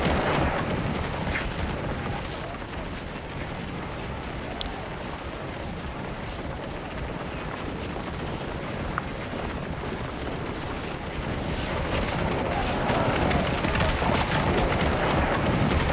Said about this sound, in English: we've got the 147th here shooting, and got the 56th Pennsylvania at their backs shooting